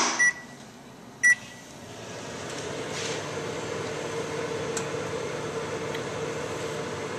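A microwave oven with a pencil inside is set running: two short keypad beeps, then the steady low hum and fan whir of the oven taking over, with faint clicks and no speech.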